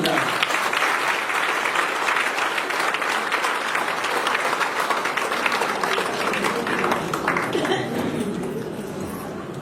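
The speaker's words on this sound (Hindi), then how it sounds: "आप अपने लिए ताली बजाएं।" An audience at a spiritual gathering in Meham applauds itself, a loud, sustained roar of many hands clapping at once that holds steady and then fades slightly toward the end.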